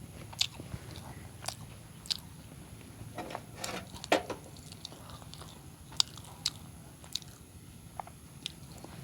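Close, wet chewing of stir-fried egg at a Thai breakfast, with soft irregular bites and crunches scattered throughout, and a few sharp clicks.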